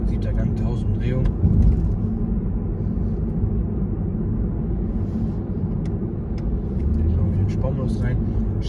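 A 2023 Toyota Supra 3.0 GR cruising at low revs in seventh gear, a steady deep engine and road rumble from inside the cabin while someone talks over it.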